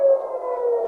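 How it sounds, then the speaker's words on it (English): Air raid sirens wail across Tel Aviv, a steady sustained tone holding at a loud level throughout with only slight wavering, heard alone without talk. "So you hear the sirens now, and this is all around the area that we're in Tel Aviv."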